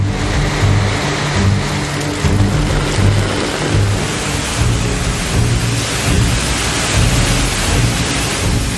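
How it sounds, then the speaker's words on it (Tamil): Heavy rain pours down steadily in Chennai, with strong gusting wind and rolling thunder rumbling underneath, loud and continuous throughout with no voices. "பிற்பகலில் கருமேகங்கள் சூழ்ந்து மூன்றாவது நாளாக சூறைக்காற்றுடன் கனமழை கொட்டியது"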